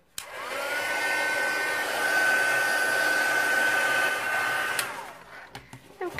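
A hair dryer blows on wet paint on a handmade card with a steady whirring hum that stays loud and even for several seconds. It then switches off, leaving faint handling clicks.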